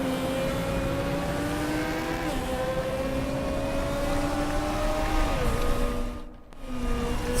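Race cars in the Motorsport Manager video game lap the track, their engines droning steadily with rising and falling pitch sweeps as several cars pass, loud and continuous throughout, with a brief dip near the end.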